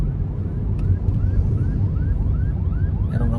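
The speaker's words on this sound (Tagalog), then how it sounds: "ambulansya. Ayan." An ambulance siren wails in repeated rising sweeps through heavy traffic rumble, steady and fairly loud as it passes, with a faint horn-like tone at the end.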